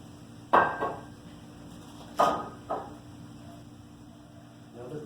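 A hand corker drives corks into bottles of mead, giving a few sharp close thumps and clunks against a quiet background hum.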